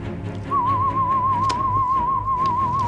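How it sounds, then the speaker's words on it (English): Someone whistles a single sustained, wavering tone with a light vibrato, over faint background rustling and a couple of soft clicks. "Oh, it's just me whistling."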